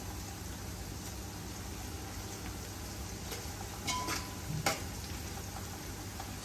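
Onions frying in oil for a homemade mutton biryani, a faint, steady sizzle and crackle with a couple of brief stirring scrapes.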